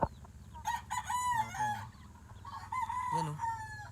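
Young kelso chickens at close range give a run of harmonic calls and clucks, some stretched into crow-like cries, over a low background hum.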